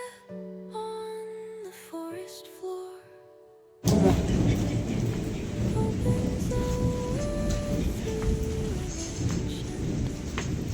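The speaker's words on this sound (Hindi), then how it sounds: "सुन रहे आप मौसम की गरज," Thunder rumbles in stormy mountain weather ahead of snowfall as rain starts, a broad steady roar of rain and rumble that begins abruptly partway through after a stretch of music and continues loud to the end.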